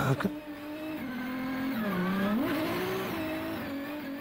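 Race car engine on throttle, a loud tonal whine whose pitch dips and then climbs as the car accelerates, heard close with no talking over it.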